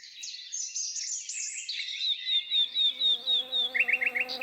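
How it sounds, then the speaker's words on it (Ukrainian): A close, steady buzzing of insects swarming, with pulsing wingbeat tones that rise and fall, and brief high chirps near the end. "А ось прилетіла зграя комах."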